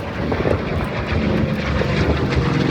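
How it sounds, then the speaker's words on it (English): A North American P-51 Mustang, a WWII fighter plane, passes overhead with a steady, loud propeller-engine roar that holds for the whole stretch. "What a beautiful example of the flight overhead."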